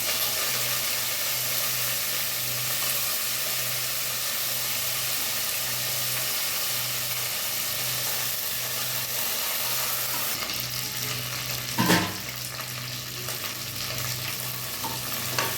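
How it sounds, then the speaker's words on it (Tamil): Mint and coriander leaves frying in hot oil and being stirred for a white biryani, a steady close sizzle with a low hum throughout and one louder scrape or clatter near the end. "இந்த புதினா கொத்தமல்லியை போட போகிறோம் ஆயிலில் கொத்தமல்லி போட்டுக்கலாம்"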